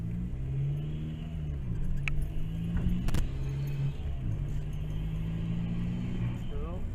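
A car passes on a road with a loud, rumbling engine whose pitch swells and then fades as it goes by. The noise is heard near and clear from a stationary vehicle.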